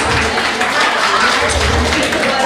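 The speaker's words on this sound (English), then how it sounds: "give yourselves a round of applause" Steady applause from a crowd at a Women's Day celebration in Muscat, dense and continuous clapping filling the whole stretch at close range.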